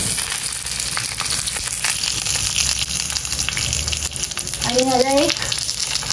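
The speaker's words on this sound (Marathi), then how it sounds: "तेल तापलेलं आहे आणि आता आपण तेलामध्ये हे सोडूया." A pomfret parcel lowered into hot oil fries with a steady, close sizzle, and the spitting grows busier in the final seconds while a person speaks briefly over it.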